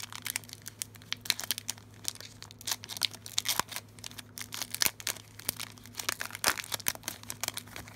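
Crinkly tearing and crackling of a foil Pokémon Guardians Rising booster pack wrapper being peeled open, close-up, with irregular sharp snaps over a low steady hum and no talking.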